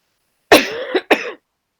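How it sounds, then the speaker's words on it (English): A person coughs twice in quick succession, a short, sharp, close-up burst followed by a second harsh cough, with silence on either side. "I'm just going to keep interrupting our chat to cough occasionally"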